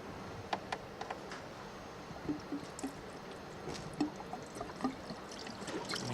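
Diesel poured into a fuel filter housing, a faint, soft liquid trickle with scattered small drips and ticks, quiet and close with no talking.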